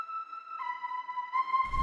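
Citrus synth lead preset Lead Dune 1 with reverb, EQ and delay, a clean, sustained tone that steps to new notes twice before a low rumbling hit comes in at the end.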